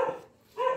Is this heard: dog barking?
yes